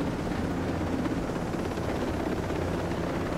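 Helicopter in flight in the tactical shooter Ghost Recon Breakpoint, a loud, constant rotor and turbine roar heard close up and steady throughout, with no other sounds.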